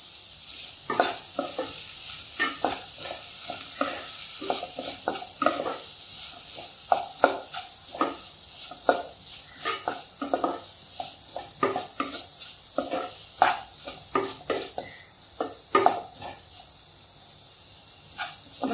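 Chopped capsicum stir-frying in a pan for egg manchurian, heard up close as a continuous sizzle with rapid, uneven clacks of a spatula tossing the pieces over nearly twenty seconds, with no speech.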